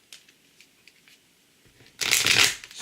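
A Lightworkers Oracle card deck is handled with a few soft taps, then a brief loud, close riffle-shuffle bursts out near the end.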